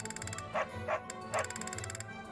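Short yipping dog barks from the Fire Emblem Three Houses video game, three quick bursts over a steady looping game music background, no talking.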